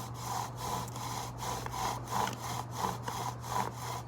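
A wooden bow drill spindle carves a divot into a wooden board, making steady rhythmic back-and-forth friction rasps, about seven strokes in quick succession, close and moderately loud.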